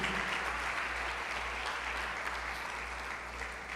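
A church congregation applauds steadily, a dense wash of many hands clapping at a fairly constant level over a low background hum.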